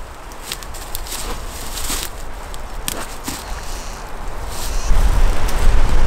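Strong wind gusting outdoors on a stormy day, blowing steadily across a microphone with broadband rushing noise that swells louder toward the end, near and continuous, with no talk.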